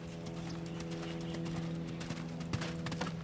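Horse hooves strike the ground in a steady riding stride, a close rhythmic clip-clop running throughout with no talk over it.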